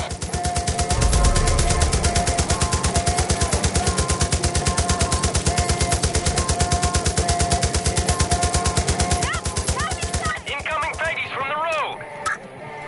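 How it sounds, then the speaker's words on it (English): Sustained rapid machine gun fire in the Far Cry 5 video game, a dense steady stream of shots running for about ten seconds before cutting out, followed by quieter game sounds with faint voices. "Kid, I'm seeing mortars and MGs outside."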